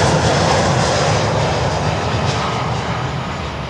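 An aircraft lands at an airport, its steady, loud engine roar filling the whole stretch and easing only slightly toward the end, with no talk over it.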